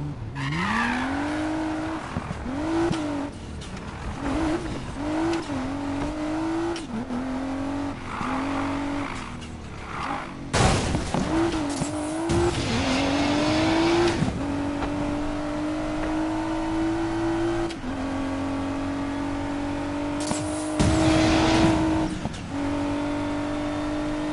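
A video game car drives hard, its engine revving up and shifting repeatedly, with several bursts of loud tire squealing and skidding, close and prominent with no talk over it.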